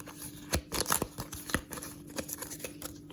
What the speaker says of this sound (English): So shuffle all these up